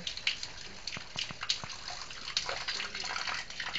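Water runs from a laundry tank tap while a kitten drinks, making a faint, steady trickle with small irregular splashes and drips.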